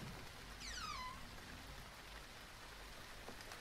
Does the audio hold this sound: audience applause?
no